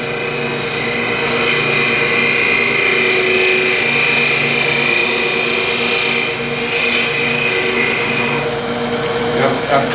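A wood lathe spins a small turning being shaped with a carbide Easy Wood tool and negative rake cutter, giving a continuous loud whirring hum with scraping cutting noise close by.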